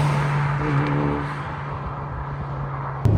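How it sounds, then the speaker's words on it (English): Toyota Celica GT4 ST205, a 25-year-old turbocharged car, droning steadily with induction noise under load, then a sharp short hiss of the boost valve venting near the end. "that induction noise and the boost valve's just hilarious"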